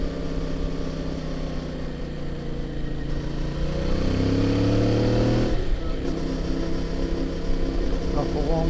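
A CF Moto motorcycle pulls away in third gear, its engine note steady and loud from the rider's position, the pitch rising as it builds speed, with wind rumble throughout.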